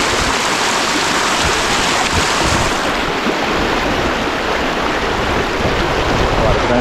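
A forest stream rushes loudly and continuously close by while someone wades through it, a dense, steady wash of flowing water with no distinct splashes standing out.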